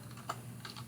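A computer keyboard being typed on while coding a Java "Hello, World!" program: a few quiet, close key clicks, one slightly sharper, spaced unevenly over a low steady hum.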